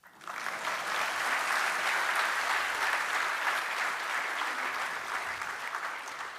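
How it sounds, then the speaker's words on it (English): An audience at a Brisbane event for India's External Affairs Minister breaks into steady, sustained applause, a dense wash of many hands clapping at moderate distance with no talking. "I thought that would call for some applause."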